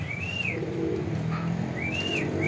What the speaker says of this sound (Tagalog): Ayan po yung ibon natin dito